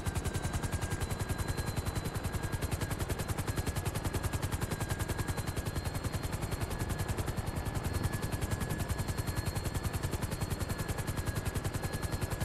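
GTA Online gunfire aimed down at cops from above, a sustained stream of rapid machine-gun shots rattling without pause, with a steady mechanical hum beneath and no voices.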